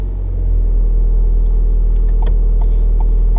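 A manual car's engine revs gently and steadily as it moves off, a low, even rumble that stays close and constant with slight rises in pitch, and no voices over it.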